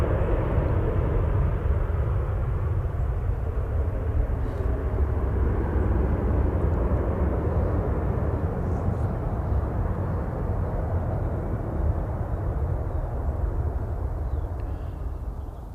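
A heavy Aer Lingus airliner arriving from Orlando over Stockport gives a steady, distant broadband roar of jet engines that holds evenly and fades slightly at the end.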